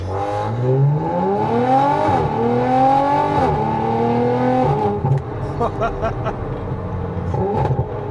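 Audi RS4 with a big V8, 331 kW, driven through Waterfall City and heard from inside the cabin: a loud, steady engine drone with rising and falling pitch as it revs up through the gears, then lighter clicks and knocks near the end.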